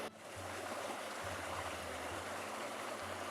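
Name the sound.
creek water running on Pelion mountain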